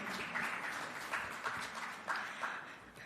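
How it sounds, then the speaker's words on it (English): Scattered clapping from an audience at the official launch of a medicinal cannabis special permit programme, fairly quiet and distant, swelling in a few brief bursts over a few seconds. "You can clap for that."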